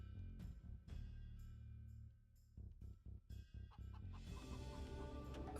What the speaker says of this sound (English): You like how noisy the chickens are?